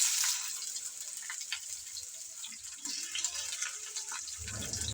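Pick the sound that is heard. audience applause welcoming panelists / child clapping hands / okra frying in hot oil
okra frying in hot oil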